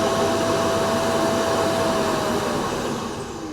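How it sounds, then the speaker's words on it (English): A robot vacuum's base station empties dust with a loud, continuous Hoover-like suction roar that runs throughout and eases slightly toward the end. "It's emptying dust now. It's like a bloody, really loud Hoover."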